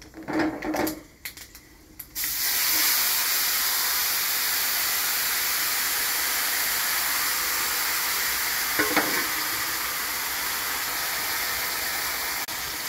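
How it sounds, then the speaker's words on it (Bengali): Flour-dipped stuffing balls drop into hot oil in a wok and fry with a loud, steady sizzling hiss that begins after a couple of seconds of quieter clatter and carries on unbroken to the end. "কারকলে পুরটার মধ্যে ময়দা ডুবিয়ে কড়াইতে ছেড়ে দিচ্ছি।"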